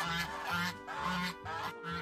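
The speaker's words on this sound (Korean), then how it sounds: "저희 애들하고 똑같은 아프리칸 거위입니다. 아, 근데 엄청 시끄러워요." African geese on an apple farm honk in a loud, repeated series of harsh calls, four bursts in steady rhythm, close by and with no talking.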